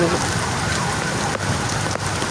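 Heavy rain pours down in a loud, dense, unbroken hiss of drops hitting surfaces nearby.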